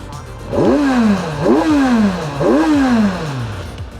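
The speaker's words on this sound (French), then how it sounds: "Le moteur était quand même relativement silencieux." A Kawasaki Versys motorcycle engine is revved close by three times in a row. Each burst climbs quickly and then winds down smoothly over a steady idle.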